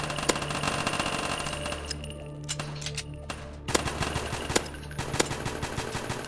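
Rapid automatic gunfire from the Madness Combat video game, dense bursts of shots with sharp individual cracks and a steady low rumble, played loudly and continuously with no talking.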